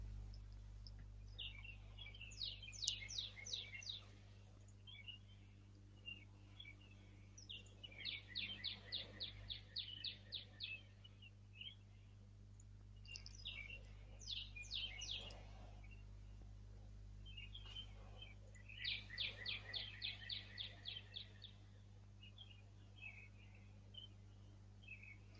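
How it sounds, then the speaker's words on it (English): Several birds chirp outdoors in repeated rapid bursts of high, quick notes, fairly faint and steady over a low hum, with brief gaps between phrases. "You guys hear the birds or no?"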